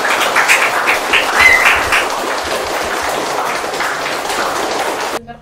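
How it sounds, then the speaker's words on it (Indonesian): Applause in a podcast room during a visit by an army information officer, a dense continuous burst of clapping from a small group that carries on steadily before stopping abruptly at the end. "Tepuk tangan dulu."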